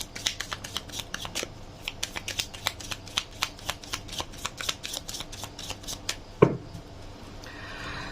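Tarot cards shuffled by hand at close range, a quick, steady run of crisp riffling snaps and slaps that ends with one louder knock.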